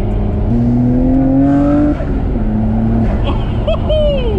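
A Nissan Skyline R34 GTR twin turbo engine pulls hard, its note climbing steadily, dropping briefly at a gear change, then surging again with higher revs, close and loud.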